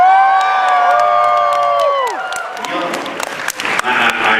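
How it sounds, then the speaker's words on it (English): A crowd at a comic convention's voice-actor panel bursts into applause and cheering, a loud wash of clapping and shouts that swells after a sustained voice and continues to the end. "there's a tremendous outburst of approval from the crowd right now"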